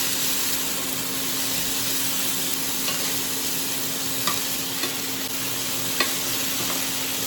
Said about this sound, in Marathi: 2 टमाट घेतले हांवें बारीक आणि 1 मिरची. परतून घेता.